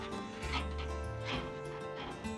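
A security dog barks in short bursts with whimpers and yips mixed in, set against a busy outdoor art event with steady background noise.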